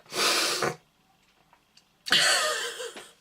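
Two loud bursts of breathy nasal noise, like strong sniffs, separated by a quiet pause with faint small clicks.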